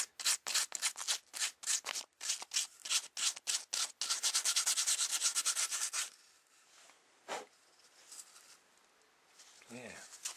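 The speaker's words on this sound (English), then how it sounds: "Taking those pencil marks off. Don't sand it too much or you'll sand all your stuff in it." Rhythmic hand sanding takes pencil marks off a beadwork piece, with quick rasping strokes in a steady run that turn into continuous scrubbing, then stop, leaving a few scattered rubs and faint noises.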